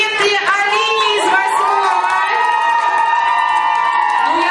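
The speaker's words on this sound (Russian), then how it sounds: "Аплодисменты Алине из" Children at a Mister and Miss talent contest for younger campers cheer, shout and whoop loudly together, a continuous crowd roar of high, excited voices close by.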